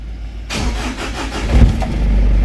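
A Ford Everest engine cranks and catches after a brief quiet, then settles into a steady, close idle with a low rumble.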